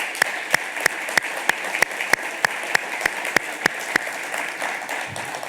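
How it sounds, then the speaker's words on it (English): A crowd at a State Chamber event keeps up sustained applause, a steady wash of many hands, with one near clapper's sharp, evenly spaced claps standing out on top throughout. "How about a round of applause for them on that?"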